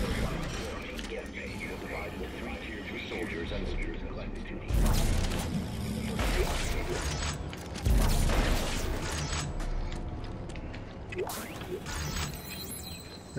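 A torque room mechanism opens in Dead Space 3 with grinding, ratcheting machinery, creaks and heavy metallic clanks, two big loud slams partway through, while someone talks over it.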